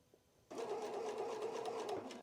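A sewing machine stitches jersey fabric held with a laminette strip, starting abruptly after a quiet moment and running in a steady, close, rapid mechanical whir for about a second and a half before stopping.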